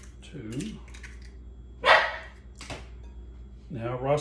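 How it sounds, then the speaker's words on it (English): A pet dog barks a few short times indoors in a home kitchen during baking, sharp isolated yaps between quiet stretches, with a faint clatter of kitchen activity in the background. "That's my dog barking."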